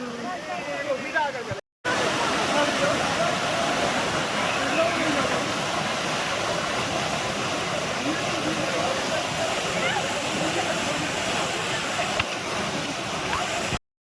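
Dudhsagar waterfall in Goa roars as a continuous loud rush of falling water, steady throughout, briefly cut off near the start and at the end.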